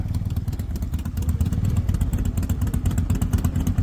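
A motorcycle ridden over a rough, roadless mountain track in the Spiti valley, its engine thrumming loud and close with jolting clatter and thumps from the uneven ground.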